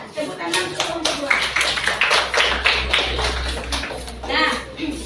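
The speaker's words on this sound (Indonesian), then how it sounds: "tepuk tangan untuk kelompok 2" Classroom applause for a student discussion group, with a burst of many hands clapping in quick, uneven rhythm for several seconds, fading out near the end amid faint children's voices.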